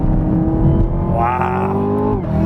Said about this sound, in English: like a muscle car should sound, but it's a lot faster